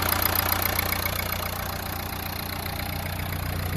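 A 2015 Renault Lodgy RXZ diesel engine idles steadily with a dense, constant rumble and a faint rhythmic diesel clatter, close and unbroken, with no voices.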